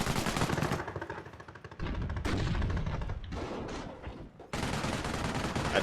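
Artillery and gunfire in a World War II tank battle video game, with dense bursts of rapid shots and heavy impacts in several loud waves separated by short lulls.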